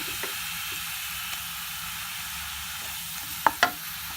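Crushed onion sautéing in a pan, a steady soft sizzle and hiss with a couple of sharp clinks from a spoon near the end.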